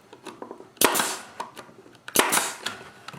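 A staple gun drives staples through canvas into a wooden bar held against the wall, giving two sharp, loud snaps about a second and a half apart with softer handling clicks around them.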